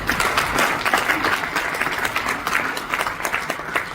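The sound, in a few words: loud audience applause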